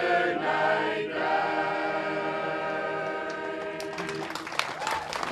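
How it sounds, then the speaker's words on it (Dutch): Audience applause after a village song performance in Bantega, Friesland, as sustained music fades and clapping builds, dense and close. "En natuurlijk krijgen ze daar een applaus."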